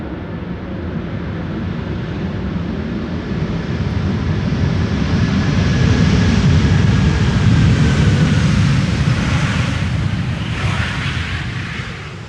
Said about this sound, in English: And that was Delta Airlines using the reversers.